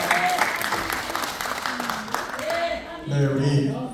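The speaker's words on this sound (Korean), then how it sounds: "커다란 박수와 함성 부탁드립니다." Audience in an art hall at a Seoul organization's launch ceremony breaks into sustained, loud applause and cheering that fills the room throughout, with a voice briefly sounding over the clapping.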